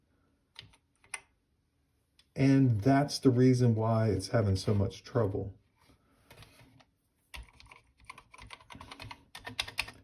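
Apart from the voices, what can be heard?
pressing keys on Atari 600 keyboard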